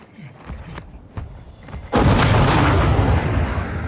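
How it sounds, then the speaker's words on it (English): Mortar strike in DMZ Warzone on PS5 in Vondel: a few scattered distant thumps, then a sudden heavy blast that swells into a long, loud rumbling roar of explosions. "Our mortar strike is inbound."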